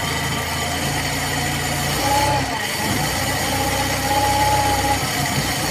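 A Mitsubishi L300 van engine idles steadily on its carburetor, a continuous mid-pitched rumble and vibration heard up close with a slight surge near the start and no talk.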